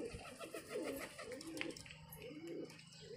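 Desi and Punjabi pigeons coo in soft, throaty repeated phrases, close and continuous against low background noise, with no clear speech.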